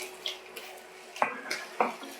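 Soaking water from rehydrated chanterelle mushrooms being strained off, heard as faint splashing and trickling with a few clinks and knocks of kitchenware, close and quiet.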